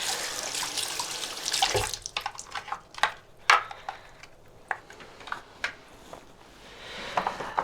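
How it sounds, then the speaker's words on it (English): Washing machine parts are rinsed under a tap in a sink, with a steady running stream at first, then irregular splashes, knocks and drips as the pieces are handled and scrubbed in the water. "We'll wash them in the sink and put them back."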